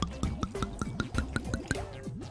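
Water is poured into gloopy glue in a bowl, heard as a quick run of close, bubbly drips and plops of liquid at an even pace, with no talking.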